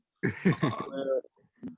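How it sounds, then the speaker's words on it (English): After a short burst of speech, there is a pause and then one brief cough, close to the microphone. "did you just cough?"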